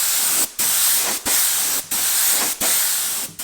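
Spray gun with new filters spraying frothed milk paint onto furniture, a steady close hiss broken by brief pauses in a regular rhythm, five bursts in all.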